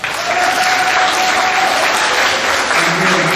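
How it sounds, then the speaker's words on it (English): Steady, loud clapping from the crowd at a middle school awards assembly, a dense uninterrupted round of applause with a faint tone and brief voices threaded underneath. "give these leaders and officers a real quick round of applause"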